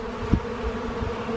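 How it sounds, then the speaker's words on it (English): A steady swarm of honeybees hums nearby around an open hive during an inspection, a constant buzzing drone with one brief soft bump partway through. "Man, there's a lot of bees flying right now."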